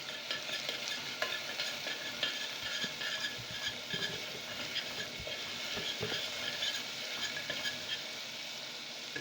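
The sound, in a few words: garlic being stirred and fried in a pan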